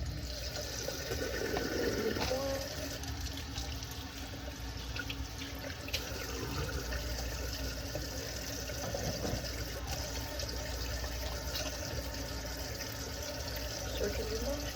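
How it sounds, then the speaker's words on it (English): A tap runs steadily into a sink while hands are washed before an infant is measured, a constant close rush of water that continues for the whole stretch with faint room noise. "I use a towel to turn on my water."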